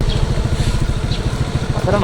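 A motorcycle engine idles in a steady low putter, close and fairly loud, with voices talking over it.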